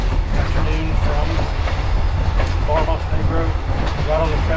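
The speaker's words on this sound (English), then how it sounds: "So this train goes overnight" An overnight passenger train on a route through Serbia toward the Montenegro coast rolls along the rails with a loud, continuous rumble and rhythmic clickety-clack, heard from inside the carriage.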